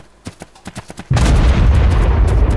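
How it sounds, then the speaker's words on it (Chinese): An explosion in the video game ARK: Survival Evolved: a few light ticking clicks, then a sudden loud, roaring blast that keeps rumbling heavily until the end. "我听到爆炸的声音"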